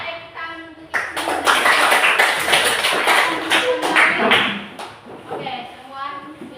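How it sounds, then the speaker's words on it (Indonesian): A class of children claps together in a classroom, a dense burst of applause lasting several seconds that rises sharply and then fades, with a voice and children's chatter at the start and end. "Tepuk tangan untuk itu."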